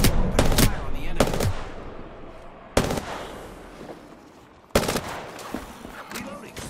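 Bursts of gunfire in Apex Legends, with rapid cracking shots in short volleys followed by sharp single reports, loud and close, with decaying echoes between bursts.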